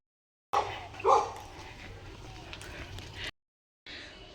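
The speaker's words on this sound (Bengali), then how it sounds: "আমাদেরকে দেখে এবার কুকুর ঘেউ ঘেউ শুরু হয়ে গেছে" Dogs bark near a roadside area, with a couple of sharp, loud barks early on, then quieter barking and ambient noise after a short gap.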